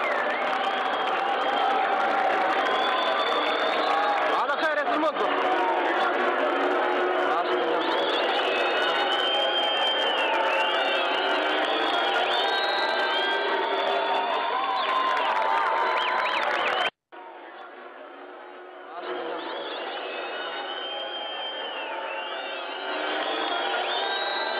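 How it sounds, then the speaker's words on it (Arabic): Large crowd at El Jem amphitheatre in Tunisia whistling and jeering as Marzouki leaves, a dense, loud, continuous roar of voices and whistles that cuts off abruptly, then resumes slightly quieter. "المرزوقي يغادر مسرح الجم تحت وابل تصفير ورفض من الجماهير"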